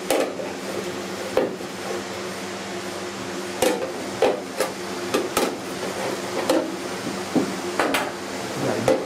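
A hammer strikes a flat dolly along a seam on the rusty upper cowl of a 1969 Chevy C10, sharp metallic taps landing singly and in quick pairs over a steady shop hum.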